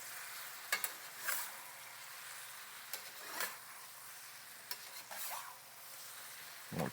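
Peach halves flipped in a hot cast iron skillet, giving a soft, steady sizzle with a few brief scraping and stirring clicks, close and alone with no talk.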